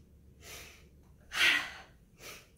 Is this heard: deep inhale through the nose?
yes